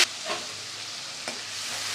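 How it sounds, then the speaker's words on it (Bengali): Bay leaf, cumin, ginger-green chilli paste and turmeric sizzling in a pan with a splash of spiced water, a continuous bright hiss with two brief scraping stirs; no talking. "ভালোভাবে কষিয়ে নেব।"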